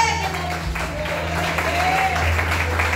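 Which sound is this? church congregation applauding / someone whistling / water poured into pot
church congregation applauding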